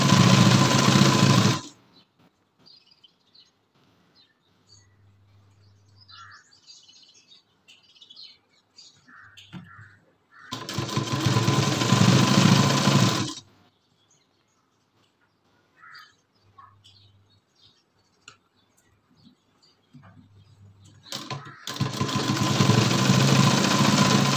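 A sewing machine stitches fine piping onto a blouse sleeve in three loud, rapid whirring bursts of a few seconds each. Quiet handling sounds and faint chirps fill the gaps between the runs.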